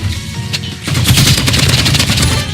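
Gunfire in the video game Rivals from an opponent's sniper rifle, a loud, dense burst of sharp shots after a brief quieter stretch, with no talking.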